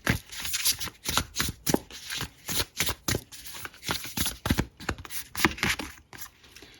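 Tarot cards shuffled by hand in a steady run of crisp riffling bursts, close and fairly loud, with brief pauses between passes and no talking.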